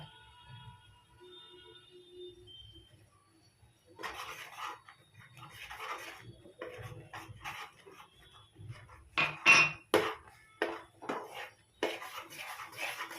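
A spoon stirs a pan of flour mixed with grated coconut, giving repeated scraping and rubbing strokes that start softly and grow busier and louder toward the end. Nobody talks.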